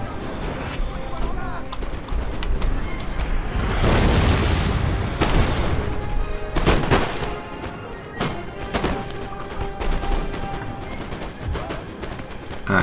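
Massed musket volleys and booming cannon fire in a Napoleon: Total War battle during the Peninsula War, a loud continuous din of crackling shots and heavy blasts rolling throughout.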